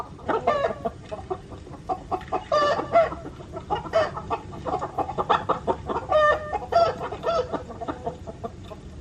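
Chickens cluck and squawk in repeated bursts on a music record, several birds together, fairly close and lively, with no talking.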